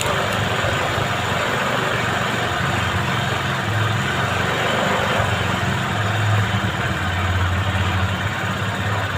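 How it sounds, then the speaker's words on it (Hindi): A Bajaj Discover DTS-Si motorcycle engine idles steadily nearby, a continuous low rumble with no throttle changes and no voices over it. "चलिए बाइक को स्टार्ट करते हैं"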